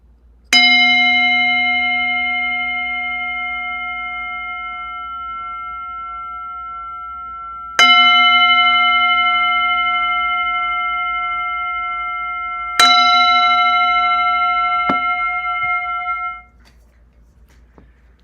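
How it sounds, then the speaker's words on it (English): A meditation bell is struck live three times, each strike ringing out loud and clear before a long, shimmering decay, with a final softer tap near the end and quiet stillness around it. "This is my real live bell."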